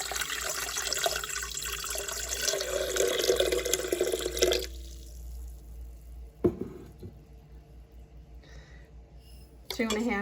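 Warm water runs from a tap and pours into a container for bread dough, a steady splashing stream that stops partway, followed by a few faint knocks and clinks in a quiet kitchen.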